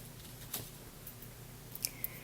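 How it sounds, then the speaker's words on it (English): Scissors trimming the edge of a homemade paper bead, a few quiet, crisp snips close by, one early and a small cluster near the end, against near silence. "So I'm going to take my scissors"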